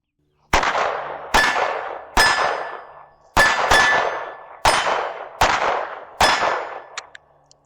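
Seven gunshots ring off steel targets at a shooting range, each sharp bang followed by a bright metallic clang that rings out and decays, spaced irregularly about a second apart, loud and close with no talk.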